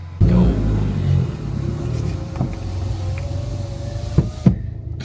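A 1.2 TSI car with its muffler deleted accelerates, a deep engine rumble surging at first and then a rising, droning note with a few thumps, fairly close, with a voice briefly over it.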